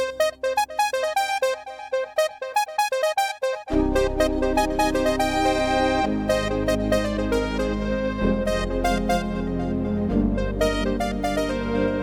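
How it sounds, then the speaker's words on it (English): A bright keyboard lead plays a quick melody alone, then full sustained chords enter underneath while the lead keeps harmonizing above them. "the lead sound harmonizes itself based on the chords that I'm playing on the left hand"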